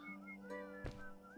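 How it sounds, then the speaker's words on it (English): Whistling by people in a video game, several faint tonal whistled notes sliding up and down over a soft steady hum, with a short thump partway through. "Why is everybody whistling?"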